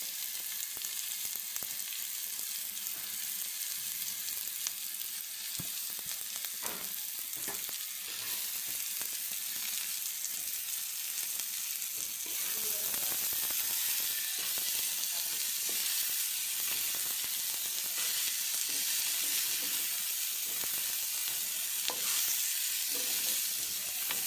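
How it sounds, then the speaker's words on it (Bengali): Onions sizzle steadily in a hot pan, a continuous crackling hiss broken by occasional scrapes and stirs, close and fairly quiet, with no talking. "পেঁয়াজ কষানো, পেঁয়াজ ভাজা"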